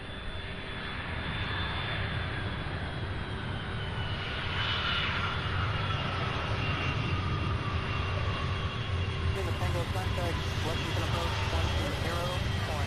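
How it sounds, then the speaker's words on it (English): A UPS Boeing 747 taxis at an airport under a water cannon salute, its jet engines giving off a loud, steady roar with a rushing, spraying hiss on top, while radio chatter and voices run underneath. "Water cannon salute for UPS 747."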